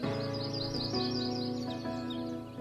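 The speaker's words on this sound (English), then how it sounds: "Where are these birds going?" Birds chirp and tweet in a steady run of short calls over a sustained tonal background, fairly close and continuous, with no talking.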